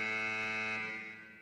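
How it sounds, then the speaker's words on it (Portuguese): Reserve alarm in the video game Arena Breakout, a loud harsh buzzing electronic tone that sounds continuously and then fades slightly toward the end, no talking over it. "é o alarme da reserva"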